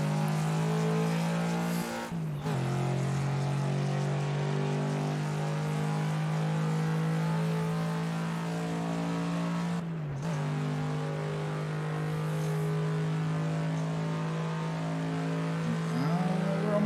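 A car speeds along the Shutoko Expressway at very high speed, its engine droning loudly and steadily, with two brief dips like gear shifts before the pitch climbs again.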